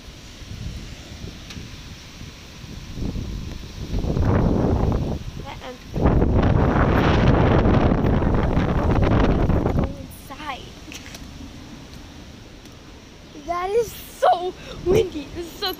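Strong tropical storm wind buffets the microphone in loud, roaring gusts, with brief speech before and after the blasts.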